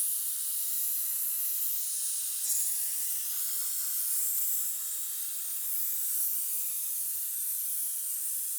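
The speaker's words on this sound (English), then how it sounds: "I like to use the steamer in these hard to clean seams." A handheld steamer hisses steadily and loudly while it cleans the seams of a leather car seat in a twin-turbo BMW, with an unbroken jet of steam throughout.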